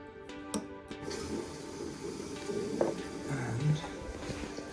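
A newly fitted toilet is turned back on and refills and flushes, water rushing and trickling at close range with someone talking over it.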